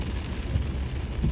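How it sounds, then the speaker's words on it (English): Heavy rain falls outdoors in a steady, loud wash of noise with low rumbling underneath, continuous for the short stretch with no voices. "it's raining like cats and dogs out here"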